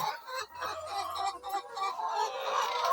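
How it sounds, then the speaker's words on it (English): Layer hens on a small fowl farm of about 55 birds cluck in short, close bursts over a few seconds, with a low hum of farm background beneath. "So this is about 55 fowls, layer fowls."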